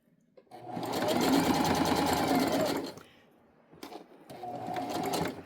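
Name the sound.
sewing machine sewing tote bag strap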